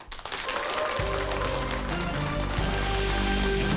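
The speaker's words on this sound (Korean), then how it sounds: "큰 박수로 맞이해 주시기 바랍니다." Audience applause welcoming a speaker onto a televised lecture stage, a loud dense burst of clapping that swells quickly, with music playing underneath.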